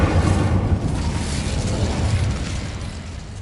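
A fire spell cast in the video game Hogwarts Legacy roars as a sustained, rumbling burst of flame, loud and close, with no talking over it.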